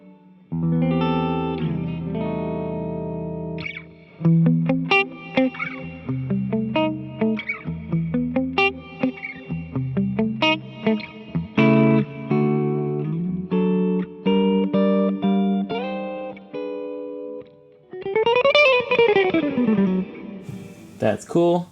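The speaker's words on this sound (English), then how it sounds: "So 1 is obviously some kind of hall sound." Alesis Microverb III rack reverb unit on a hall preset, a melodic synth or keyboard line ringing out with long, washy hall reverb tails, loud and continuous, ending with a swooping pitched sweep.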